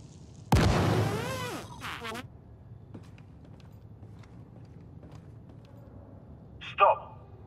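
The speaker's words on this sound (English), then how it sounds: "Throwing grenade." A grenade goes off in the Helldivers video game: one loud, sharp blast opens, then a ringing, sweeping tail fades out. A shorter burst follows later against a quiet background.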